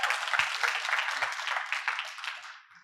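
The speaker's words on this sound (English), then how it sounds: "Give them a round of applause." An audience at a sales seminar claps in applause, a dense burst of many hands that holds steady and then fades away near the end, heard from within the hall.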